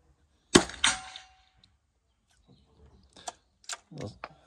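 A single small-bore rifle shot is fired from the standing position on a 50-meter range: one sharp crack with a brief echo, followed after a pause by a few quiet clicks and handling noises.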